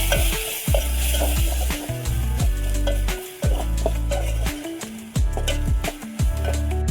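A spoon scrapes and clatters repeatedly in a pot of Maggi rice with turmeric on a wood-fired stove, steady rhythmic stirring over a low sizzle, close and loud with no talk.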